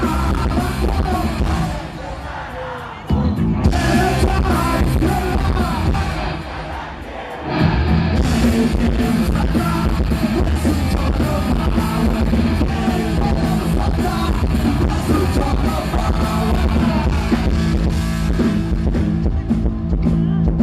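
Large outdoor crowd at a Día de Huamanga street celebration in Peru yelling together on cue, loud and sustained, dropping briefly before surging again into a long roaring shout.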